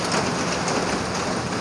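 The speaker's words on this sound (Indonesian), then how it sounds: "Sekarang posisi lagi hujan" Steady rain falls on a street in Bandung, Indonesia, as a loud, even, continuous hiss that fills the whole moment, with no talking.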